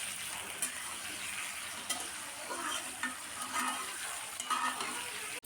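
Potatoes frying in oil and being stirred for about three to four minutes in a Bangladeshi home kitchen, giving a steady close sizzle with intermittent scraping stir strokes throughout.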